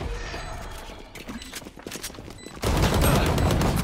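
Rapid gunfire from the shooter game Valorant crackles in dense bursts, quieter at first and then a loud, sustained barrage in the final second and a half, with no talk over it.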